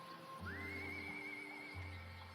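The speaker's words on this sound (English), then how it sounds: "He climbs up on a horse and he rides off into the sunset." Horse giving a single high, drawn-out whinny that rises and holds steady, fairly faint over a low hum, with no voices.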